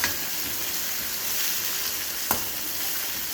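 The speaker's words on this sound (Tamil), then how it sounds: "நல்லா வதக்குங்க" Onion and tomato sizzle in hot oil in a pan, a continuous close frying hiss with a spoon scraping and stirring now and then and one sharp clink, no speech.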